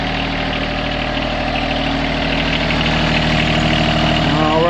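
A John Deere 1023E compact tractor with 46 hours on it idles in a steady, loud, rumbling drone, heard close and continuous throughout.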